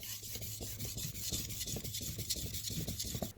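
A chef's knife is drawn repeatedly across a whetstone, giving soft, rhythmic gritty scraping strokes, close and fairly quiet, with no talking.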